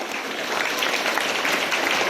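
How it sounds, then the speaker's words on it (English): A school assembly audience of primary-age students gives a round of applause, a dense, steady wash of many hands clapping at close range, holding evenly loud throughout. "One more round of applause."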